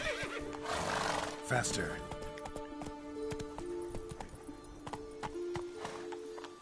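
Roach the horse in The Witcher 3 whinnies loudly near the start and hooves clip-clop through the rest, over in-game music, while someone talks throughout.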